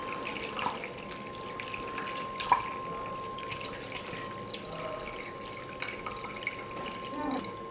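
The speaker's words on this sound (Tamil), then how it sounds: "நம்ம இதுக்கு மேலே பச்சை தண்ணியை சேர்த்துக்க போகிறோம்" Cold tap water runs steadily over cooked pasta in a home kitchen, a continuous close splashing hiss with a few faint drips and no talking.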